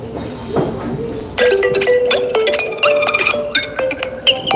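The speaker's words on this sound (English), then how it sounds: "Ringtone opening." A phone ringtone plays loudly close by: a bright, repeating electronic melody of chiming tones that starts after a brief lead-in and keeps going to the end.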